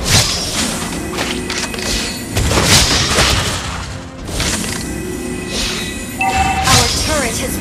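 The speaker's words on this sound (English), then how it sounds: "Our turret has been destroyed." A turret blows up in a mobile MOBA battle, with a loud booming crash and clattering impacts over dense in-game effects and music, followed by a second burst of hits and chimes.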